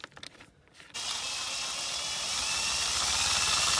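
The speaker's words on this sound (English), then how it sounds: "Right, let's try a bigger drill now." Larger power drill grinding into the rivets of a Corgi Ford Escort diecast van: a few faint knocks, then a steady, dense, close whirring drone that runs to the end without pause or speech.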